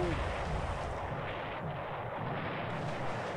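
Heavy, booming torpedo explosions roll on as a ship sinks in the War in the Pacific wargame, a continuous loud low rumble with no distinct gaps and no talking.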